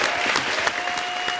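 A studio audience at a comedy show breaks into dense, loud applause that holds steady throughout, with a few sharper claps standing out.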